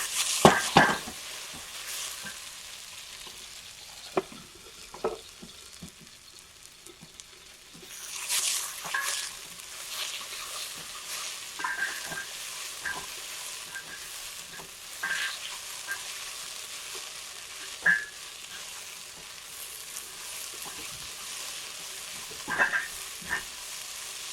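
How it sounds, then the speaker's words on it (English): Vegetables for chicken soup sauté in a pot, a continuous close sizzle broken by scraping stirs and light clinks of utensil on pot, repeating through the stretch with no talking. "stirring every few minutes to make sure that none of the vegetables were burning on the bottom"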